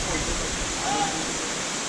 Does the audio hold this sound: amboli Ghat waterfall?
yes